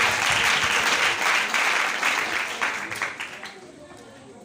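Congregation at a prayer camp applauding and cheering, a dense, loud wash of clapping and crowd voices that gradually thins and fades toward the end.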